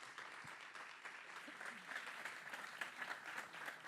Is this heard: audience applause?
yes